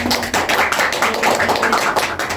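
A classroom of students claps hands together in a micro-teaching lesson, a dense, steady patter of many overlapping hand claps close by, continuing for the whole stretch without talk.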